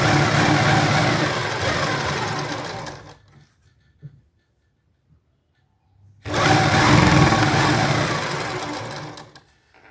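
A sewing machine stitches a kameez fitting seam in loud, fast, whirring runs, stopping for a few seconds of near silence before starting up again close by.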